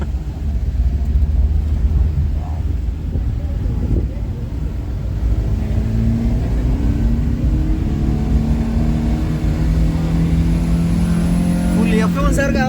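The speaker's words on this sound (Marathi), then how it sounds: "फर्स्ट गिअरवर गाडी चालवायची आहे" A car grinds up a steep mountain ghat road in first gear, its engine a steady loud low rumble throughout, with a rising whine near the end and people talking over it.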